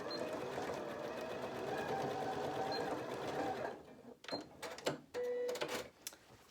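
A sewing machine stitches across the tabs of a zipped pouch under the presser foot, running steadily for several seconds and then in short bursts as the fabric is positioned, close and clear with no talking.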